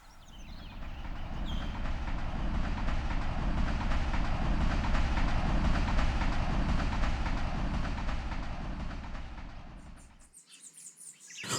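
A train running steadily along the tracks as a story sound effect, a dense continuous rumble and rattle holding at even loudness for about ten seconds before cutting off abruptly, faint bird chirps left in the quiet tail.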